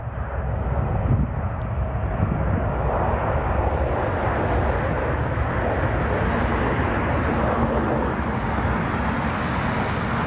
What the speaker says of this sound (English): Have a fast takeoff on this 777.